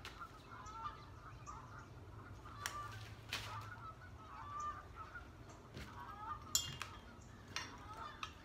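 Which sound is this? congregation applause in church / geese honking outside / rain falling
geese honking outside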